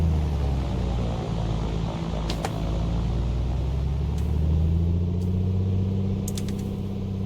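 Piper Comanche 250 engine in the A2A flight simulator with the propeller pitch being cycled, a steady loud droning rumble whose pitch shifts downward and back as the prop is cycled, with a few faint clicks on top.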